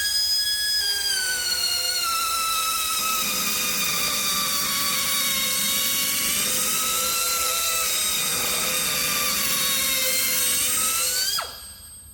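An annular cutter bores into a steel strut rod from a CAT 785 mining haul truck, a loud, steady, piercing whine held for about eleven seconds before cutting off abruptly, close and alone.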